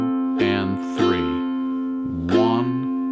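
Slow ukulele strumming in a waltz-like three-count feel, three broad strum strokes ringing out over a sustained chord, close and clear with no talking.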